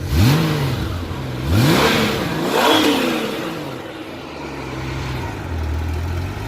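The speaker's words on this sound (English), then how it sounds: "Has that classic Honda Goldwing sound." A 1996 Honda Goldwing motorcycle engine, low-mileage and in mint condition, revs up in three sharp swells over the first three seconds, then settles into a steady, throaty idle, loud and close with no talking.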